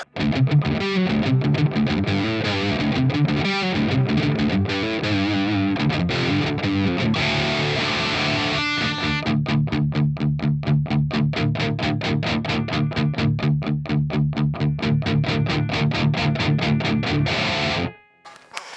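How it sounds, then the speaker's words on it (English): Heavily distorted electric guitar with Mesa Boogie-style overdrive chugging in tight palm-muted rhythms, loud and continuous, with chords ringing out before stopping abruptly near the end. "big overdriven Mesa Boogie style distortion tones"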